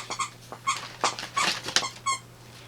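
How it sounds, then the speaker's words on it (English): A dog makes a series of short, high squeaks in the background, about six bursts in irregular rhythm, fairly close and moderately loud, with no talking. "my dog goes squeak squeak in the background"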